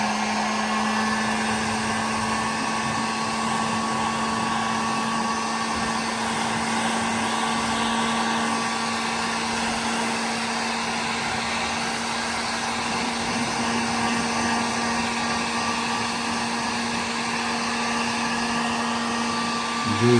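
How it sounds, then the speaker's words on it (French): A heat gun blows steadily on perforated plastic film, a continuous loud whirring roar with a fixed motor hum that runs unbroken throughout, with no one talking. "petit pistolet à chaleur, on y va, on va voir ce que ça donne."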